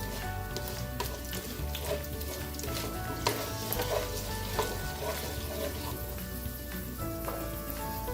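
Cashews stirred constantly as they fry in ghee over a lowered flame, a soft, steady crackling sizzle with faint spoon scrapes and a low background hum, no talking.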